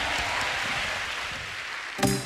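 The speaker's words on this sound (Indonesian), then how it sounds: "Tepuk tangan bagi Tuhan yang luar biasa." A church congregation applauding, a steady wash of many hands clapping at even loudness throughout, with a brief louder sound near the end as the clapping continues.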